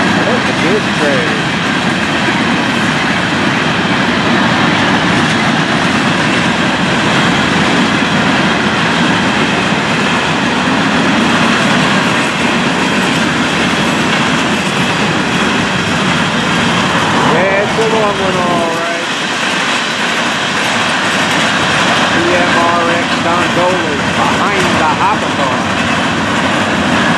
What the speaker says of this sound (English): Wow, look at this train.